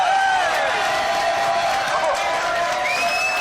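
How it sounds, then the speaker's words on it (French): Studio audience applauding and cheering at a French summer variety show, a dense, steady wash of clapping with whoops and whistles rising above it, loud and continuous throughout. "Applaudissements, s'il vous plaît"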